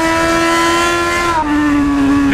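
A Yamaha XJ6 motorcycle engine runs close and loud at held revs with a steady, buzzy drone. Its pitch dips slightly partway through, then holds again.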